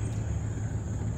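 An Arrma Felony GT 6S electric RC car held at full throttle, a steady droning motor whine with a constant high tone over low rumble, unbroken and fairly loud throughout.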